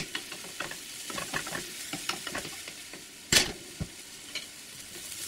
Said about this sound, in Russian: И постоянно помешивая, периодически вернее помешивая, продолжаю обжаривать содержимое сковороды.